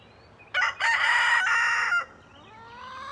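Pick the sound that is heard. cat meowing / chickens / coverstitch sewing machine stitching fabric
chickens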